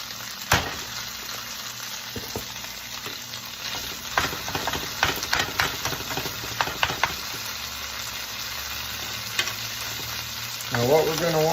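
Garlic and butter sizzle in a pan alongside steak over medium heat, a steady crackling fry punctuated by sharp scrapes and clinks of stirring utensils, with no one talking.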